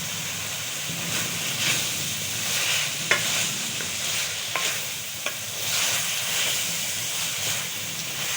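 A sauce with vinegar simmers in a pan, a steady close hiss and bubbling sizzle running throughout, with a few light clicks of a utensil against the pan.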